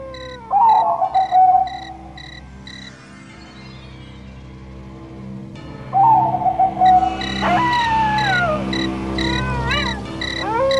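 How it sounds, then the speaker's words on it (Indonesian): A zebra dove (perkutut) coos at night in two phrases of repeated hooting notes separated by a pause, clear and close, set against tonal background music with no speech. "terdengarlah suara perkutut manggung"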